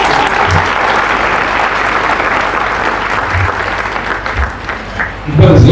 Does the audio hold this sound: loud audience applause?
yes